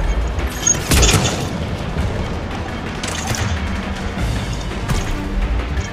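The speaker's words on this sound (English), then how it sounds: "These guys are shooting." Enemy gunfire in the PC shooter Mass Effect 3, a dense run of booming shots and crashes with sharp bursts near one second, three and five seconds over a constant loud battle din.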